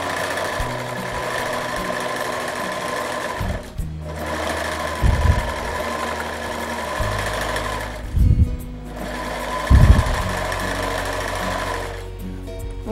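Sewing machine stitching a beach bag, running in steady loud bursts of whirring with brief pauses and heavier thumps near the stops, no talk over it.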